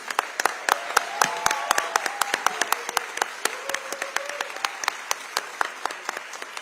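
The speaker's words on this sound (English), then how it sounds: "please give yourselves and them a hand for the work that you all do" Audience at a town hall for care workers applauding, a dense burst of many hands clapping close by that stays steady throughout with no voices over it.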